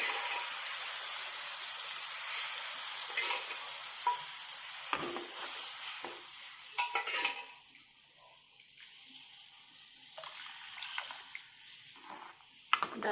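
A tempering for chana dal fry sizzles in a pan, a bright hiss that fades after about seven seconds into quieter, scattered crackles and occasional scrapes of stirring, close with no talk.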